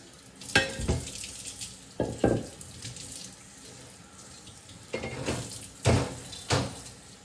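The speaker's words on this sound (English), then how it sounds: "now I'm gonna rinse like a plate quickly" Running tap water splashes over a plate being rinsed in a kitchen sink, arriving in several loud, close bursts separated by short quieter gaps of trickling water, with no talking.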